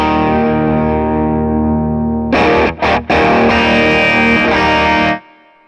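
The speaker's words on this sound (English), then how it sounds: "let me dial up some distortion in the amp" A sustained distorted electric guitar chord rings loud, then breaks into a gritty, choppy burst of heavily overdriven playing before cutting off abruptly.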